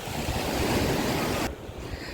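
Black Sea surf at a clear-water beach in Chornomorsk, a steady close wash of waves with wind buffeting the microphone, then the roar drops off sharply near the end, leaving quieter water.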